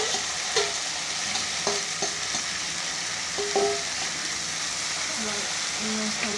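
Greens with garlic frying in a pan of hot oil, a steady sizzle with a few scrapes and clinks as the spatula stirs, close and continuous throughout.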